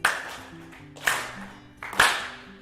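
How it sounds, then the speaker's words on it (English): A group claps in a loose rhythm during a wellness workshop, about one strong clap per second with softer hands filling between, while a low musical drone plays underneath. "So I want everyone to start clapping."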